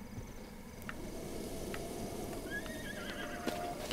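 A horse in The Legend of Zelda: Breath of the Wild gives a brief, thin whinny partway through, faint over a steady hiss of ambient noise, with a few soft clicks around it.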